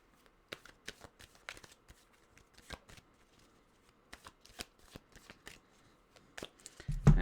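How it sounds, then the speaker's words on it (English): Tarot cards being shuffled by hand in a quiet room, a run of crisp riffling and flicking bursts spread across the stretch, close and fairly soft, with no talking over it. "Cut the cards. Oh, they do not want to be cut."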